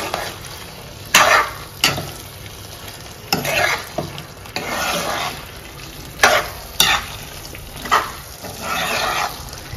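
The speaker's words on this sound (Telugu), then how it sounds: "బాగా కలపాలి చికెన్ అంతా, చికెన్ ని పట్టేటట్టు గోంగూర కలపాలి మనం." Chicken and gongura leaves are stirred in a sizzling pan, with a spatula scraping in irregular bursts over a continuous frying hiss, close by.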